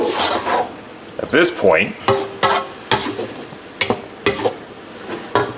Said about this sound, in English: And just keep stirring.